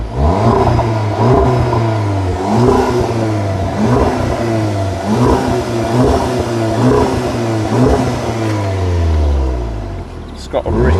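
An Audi TT 2.0 TFSI engine revs repeatedly in short rhythmic bursts over a rumbling idle, loud and close, with a brief clatter near the end.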